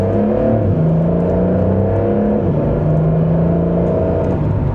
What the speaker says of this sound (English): We'll give it a small acceleration.